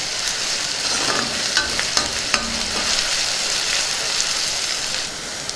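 Curry leaves are stirred into an eggplant and pea curry frying in a pan, a close steady crackling sizzle with scattered scraping taps of the spoon, stronger early and settling into a softer hiss.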